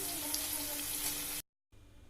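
Bitter gourd and potato chips frying in hot oil, giving a steady, dense crackling sizzle up close that cuts off abruptly, leaving a faint quiet tail.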